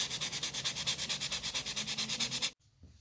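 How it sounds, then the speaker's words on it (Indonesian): Rapid, steady back-and-forth scratching of 600-grit sandpaper on a wrapping finish, about twenty even strokes close up, stopping abruptly near the end. "Saya menggunakan amplas yang ukuran 600 ini."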